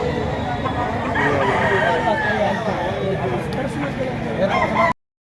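A young rooster, around seven to nine months old, crows repeatedly at a busy Lipa poultry market, its calls rising over steady crowd babble and other birds until the sound cuts off abruptly near the end.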